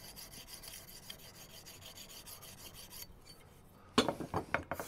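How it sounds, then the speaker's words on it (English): An axe being sharpened to remove a big nick is rubbed on a stone to take off the wire edge, making quiet, close, repetitive scraping strokes that turn louder and more irregular near the end. "We're actually sharpening the axe."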